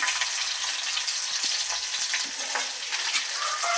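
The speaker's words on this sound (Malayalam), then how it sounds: "പച്ചമുളക് അരിഞ്ഞതും കൊച്ചുള്ളിയും കൂടെ കിടന്ന് ഒന്ന് മുരിഞ്ഞു വരക്കാം" Chopped green chillies and shallots sizzle and fry steadily in oil for a Kerala-style ginger curry, with soft stirring scrapes and no voices.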